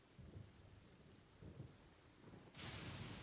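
Thunder and rain in the Genshin Impact video game: low rumbling swells, then a sudden loud burst of heavy rain or thunder noise near the end, with no talk.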